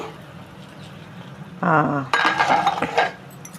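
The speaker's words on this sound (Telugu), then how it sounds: "ఒక్కసారి చూద్దామండి మూత తీసి" A metal lid lifts off a pot of greens and moong dal curry with a brief clatter and a few close, ringing clinks, then quiets.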